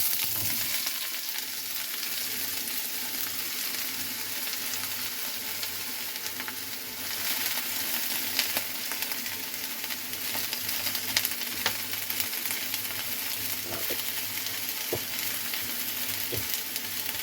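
Vegetables stir-fry in a hot wok, a constant loud sizzle and crackle with occasional clinks and scrapes of stirring, heard close with no voices.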